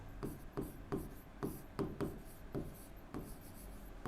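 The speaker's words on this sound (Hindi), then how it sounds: "तो हम इस यहाँ पे भी यही बात लिखते हैं" Handwriting during a Class 10 maths lesson on real numbers: quiet, steady scratching strokes in an irregular rhythm of roughly two per second, close and faint, with no talking.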